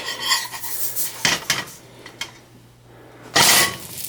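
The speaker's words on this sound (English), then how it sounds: "I'm going to go ahead and flip the bread. This is the round bread in the frying pan." Metal utensil scrapes and clinks against a frying pan in a few short bursts as round flatbread is flipped, with a faint sizzle underneath.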